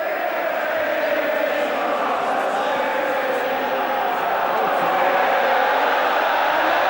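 Stadium crowd at the 2003 Six Nations Grand Slam decider between Ireland and England, a dense continuous roar of many voices filling the ground, steady and loud throughout.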